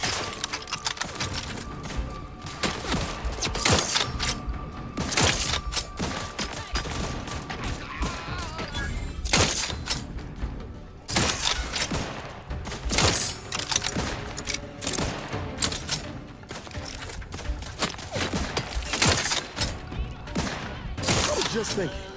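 Gunfire in the video game Outer Worlds 2, coming from a barn area: repeated bursts and scattered single shots over about twenty seconds, loud and dense, with brief lulls between volleys.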